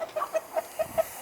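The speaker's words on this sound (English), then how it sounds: "a lot of guys been asking about the chickens" Backyard chickens clucking in a coop, a quick series of short, close clucks in an uneven rhythm, fairly soft with no talking.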